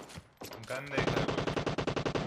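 Rapid automatic gunfire in a battle royale video game, a fast, even burst of about a dozen shots lasting over a second, preceded by a few scattered sharper sounds.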